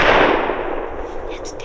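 A gunshot during a deer hunt in the Ohio gun season, one loud, close blast decaying into a long rolling echo.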